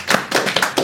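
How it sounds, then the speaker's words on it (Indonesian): Brief burst of audience clapping on a talk show, a few quick claps blending together, close and fairly loud. "Tepuk tangan dulu buat Coki, luar biasa"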